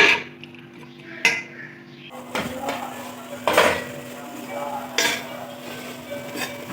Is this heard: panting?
no